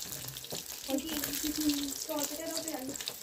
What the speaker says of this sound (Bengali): কথা বলতে বলতে আমার মাছগুলো সব ভাজা হয়ে গেল